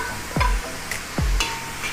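Masala for karimeen pollichathu is sautéed with onions in a pan: two distinct stirring strokes with a utensil knocking the pan, over a constant loud sizzle, no voices.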